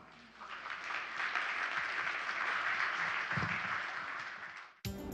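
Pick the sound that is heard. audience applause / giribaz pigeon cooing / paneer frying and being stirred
audience applause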